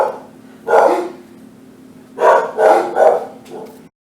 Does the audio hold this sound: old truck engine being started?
no